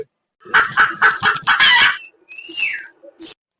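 A hen clucks in a quick series of loud, close bursts as its egg is taken, followed by a rising squawk and a couple of short, softer clucks.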